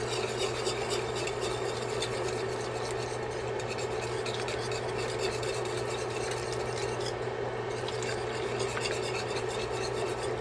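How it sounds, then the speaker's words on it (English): Creamy crab and shrimp bisque being stirred in a pot gives a steady, continuous scraping and swishing over a constant low hum, with no talking. "I'm going to give this a good stir"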